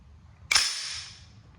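Trigger of an AR-10 rifle breaking cleanly: one sharp, crisp metallic click up close, with a short bright ringing tail fading out in an otherwise quiet space.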